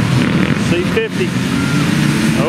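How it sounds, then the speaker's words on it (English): A motorcycle engine fires up and runs at a youth and junior motocross race meeting, its rough mid-pitched motor noise steady beneath loud crowd and announcer chatter. "Al got his bike started"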